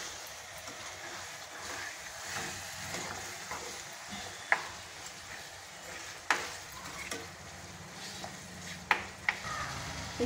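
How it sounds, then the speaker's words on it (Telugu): Chicken pieces stirred with masala in a hot pan for gongura chicken, giving a steady sizzle under repeated scraping and spoon clinks against the pan, with a few sharper metallic knocks; no talking. "చికెన్ బాగా కలుపుకోవాలి, మొత్తం మసాలాతో మిక్స్ అయ్యేటట్టు కలుపుకోవాలి."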